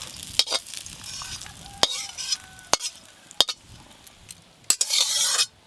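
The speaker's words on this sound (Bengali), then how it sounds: "আর এদিকে সব গোটা মশলাগুলো ভালো করে ভাজা হয়ে গেল" Whole spices frying in hot mustard oil in a village kitchen, stirred with a metal spoon against the pan: sharp scraping clinks recur every second or so over a soft sizzle that swells near the end.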